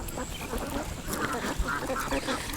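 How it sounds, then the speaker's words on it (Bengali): Many ducks quacking together on a duck farm of about five hundred birds, a dense steady chorus of overlapping calls at close range with no talk. "কারণ এতগুলো হাঁস আছে"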